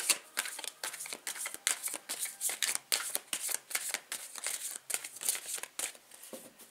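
Tarot cards being cut and shuffled by hand, a rapid run of crisp riffling flicks and soft papery slaps repeating steadily and close up, with no talking.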